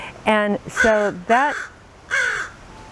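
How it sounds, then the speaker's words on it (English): A crow caws several times, loud harsh calls in a broken series, with a voice speaking briefly between the calls. "this crow is definitely part of the presentation today"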